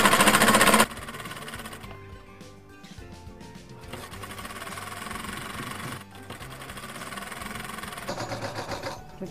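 After a brief loud burst, a sewing machine runs stitching a seam on ladies' pants, a close mechanical whir that rises and dips with short stops along the way.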